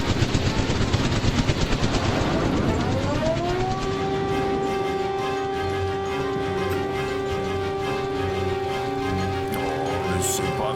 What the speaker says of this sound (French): Les tourelles arrosaient abondamment le ciel